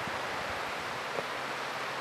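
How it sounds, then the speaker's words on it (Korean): Waves wash onto Gomsol beach beside a 300-year-old pine forest in the early morning, a soft, steady surf hiss with gentle swells and light wind, faint and continuous with no voices. "고즈넉한 파도 소리"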